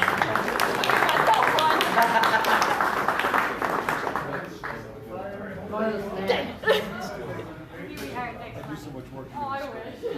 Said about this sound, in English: Let's give a round of applause for Emma for helping me out.